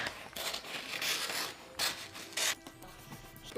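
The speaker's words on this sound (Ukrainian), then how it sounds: "папір рветься" Crinkly gift-wrapping paper rasping and tearing in short bursts, close up, with a few louder rips near the middle and end; no voices.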